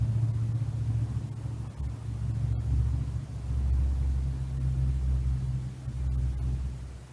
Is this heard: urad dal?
no